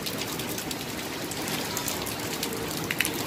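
Steady rain falls outside a closed house, a continuous even hiss of drops on surfaces with a faint gushing of water from a nearby drain, heard alone without voices.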